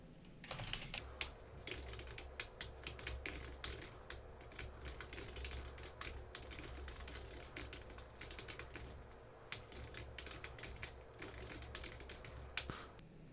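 Steady typing on a computer keyboard, close and quiet, with irregular bursts of key clicks and short pauses throughout and no voices.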